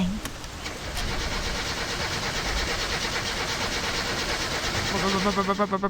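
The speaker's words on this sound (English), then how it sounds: "the engine thrown back in the car, it was time to start her up again" In the video game My Summer Car, a car engine cranks and catches, running into a rough, steady rumble that swells near the end with rhythmic pulsing.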